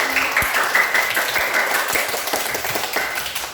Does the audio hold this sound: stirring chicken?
no